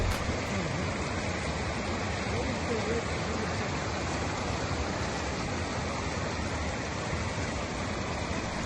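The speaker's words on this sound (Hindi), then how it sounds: "नेक्स्ट स्लाइड में आप इस नदी की आवाज सुन सकते हैं बिना किसी वॉइस ओवर या म्यूजिक के।" The Shaliganga river in Kashmir rushes past in a steady, dense roar of flowing water, loud and continuous throughout with no voices.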